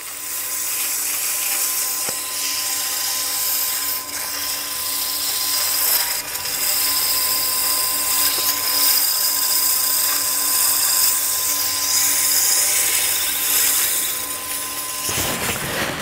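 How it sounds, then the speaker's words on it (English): Wooden honey dipper spinning on a lathe while being sanded with 600 grit sandpaper, a continuous high whirring hum with abrasive hiss, loud and close, cutting off at the very end. "And we'll finish with 600 grit sandpaper."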